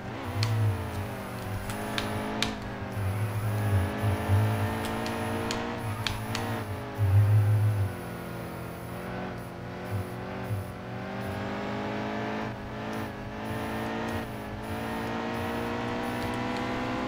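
Race car engine in the NASCAR Heat 2 video game at Watkins Glen, a loud sustained high-revving drone that rises and falls with gear shifts and braking through corners, no talking.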